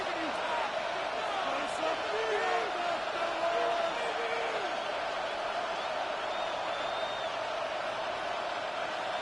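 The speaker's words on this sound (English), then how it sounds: "The crowd getting into it as we come up on a big 3rd down" Stadium crowd in a Madden 26 football game: a steady, moderate roar of many voices with scattered whoops and cheers, under commentary.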